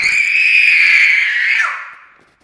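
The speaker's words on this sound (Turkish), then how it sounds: "Ay, nasıl bağırıyor?" A child lets out a loud, shrill scream, one sustained high cry held for nearly two seconds before breaking downward and fading away.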